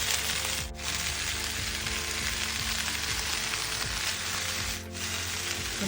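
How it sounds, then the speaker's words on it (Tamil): Chopped vegetables sautéing in hot oil for Indian-style spicy masala pasta, a steady close sizzle and crackle that runs continuously, with brief dips where the frying quiets for a moment. "கொஞ்சம் இதில் எண்ணெய் சேர்த்துட்டு இதை அப்படி வதக்கலாம்."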